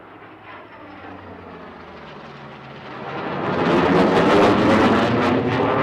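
A Boeing F/A-18 Super Hornet at an air show climbs and reverses in the vertical. The jet roar builds from a distant rumble to a loud, broad, rushing blast over several seconds.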